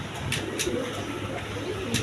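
Low cooing from a roomful of pigeons of various breeds kept for sale, soft repeated calls over a constant hum with a few brief sharper noises, nearby and without speech.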